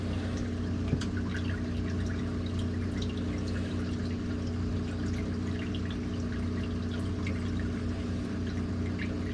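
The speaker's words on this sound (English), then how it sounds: "I should probably fill his cage a little bit with water." Water pours steadily and continuously into a dwarf caiman's enclosure with a low, rushing hum and faint splashes, close by and without pauses.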